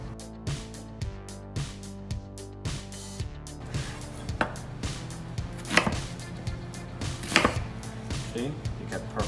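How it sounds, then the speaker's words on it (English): A knife chops steak into cubes for steak and shrimp kebab skewers, striking a board in a steady run of close, crisp cuts, with a few sharper, louder chops toward the end. "So cut it in the middle, and then you cut it in the middle of the half."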